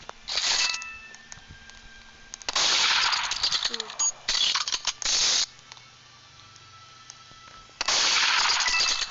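Gunfire in the Roblox game Murder Mystery 2: several loud, harsh bursts of shots, each lasting about half a second to a second, separated by quieter gaps with faint game noise.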